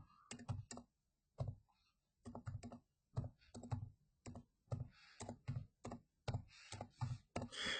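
Quick bursts of key clicks on a keyboard, typed in short irregular runs with brief pauses between them, close and fairly quiet.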